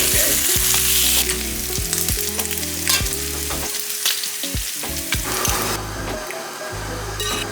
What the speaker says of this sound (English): Put your cheese directly on the cast iron and let it melt for just a minute before scraping it off.